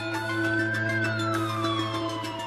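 A phone ringtone in a Chinese city imitating a police siren, playing a continuous wailing electronic tone with sliding pitch, steady and fairly loud throughout.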